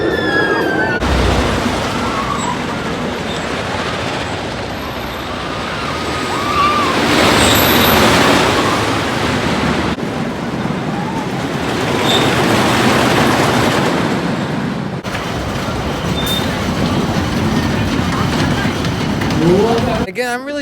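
Loud, continuous rumbling roar of a ride on Apocalypse, a GCI wooden roller coaster at Six Flags Magic Mountain, with rattling wheels and wind noise that swell and ease through the run.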